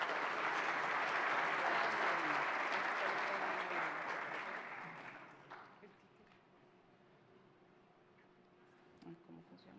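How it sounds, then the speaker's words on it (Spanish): An audience at a technical conference gives someone speaker loud, sustained applause that fades after about five seconds, leaving a quiet room with faint shuffling and a few scattered sounds. "recibámosla con un fuerte aplauso"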